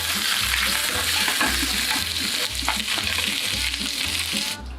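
Crispy duck skin frying on low heat in a preheated non-stick skillet, a loud close sizzle and crackle, steady throughout with a faint rhythmic low thump underneath.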